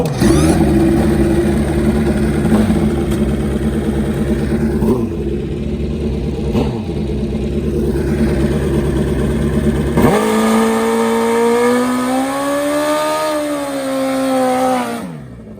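Drag racing motorcycle engine at the track, sputtering and cranking through repeated attempts before catching, then revved hard in a loud, sustained rising and falling roar close by.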